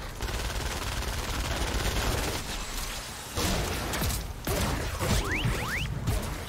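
Gunfire in the video game Fortnite, during a battle at Plank Harbor in Save the World mode, rattles in dense, continuous bursts mixed with whooshes and thuds at a steady, fairly loud level.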